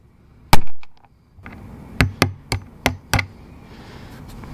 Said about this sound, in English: They've got little caps here that you can hammer out.